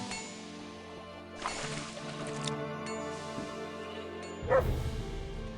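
A dog barks in the video game Kroniki Myrtany, short yips and bow-wows over steady game ambience and music, with a louder burst near the end.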